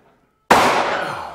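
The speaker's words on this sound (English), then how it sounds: "I'm going to hit it with a hammer" Nitroglycerin detonated by a hammer blow gives a single sharp, loud bang after a moment of near silence, then a broad roaring decay that fades slowly.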